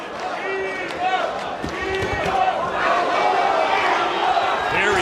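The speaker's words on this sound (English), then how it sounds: "Very boisterous crowd here in Abu Dhabi." A boisterous boxing arena crowd in Abu Dhabi roars and cheers steadily throughout, swelling slightly toward the end, while a commentator talks over the noise.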